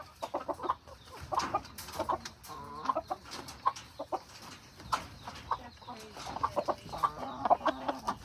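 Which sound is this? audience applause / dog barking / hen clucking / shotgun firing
hen clucking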